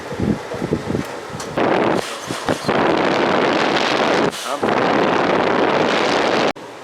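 A portable roll-away air conditioner blows air from its vent at close range, a loud, broad rushing that comes in long steady surges with a few brief dips.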